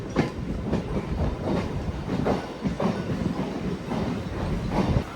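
A Coimbatore-Shornur MEMU passenger train pulls out of Ottapalam station near the Bharathapuzha river, its wheels beating a steady clickety-clack over rail joints amid continuous close rumble, with no talk.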